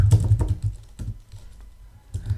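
Computer keyboard typing: a few quick bursts of keystrokes, fairly close and clear, separated by short pauses, with no talking.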